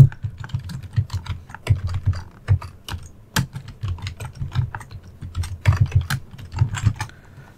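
Rapid clicking of a computer keyboard as a command is typed on a master node machine, irregular close keystrokes in quick bursts with no talk.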